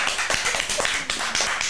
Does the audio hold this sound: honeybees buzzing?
no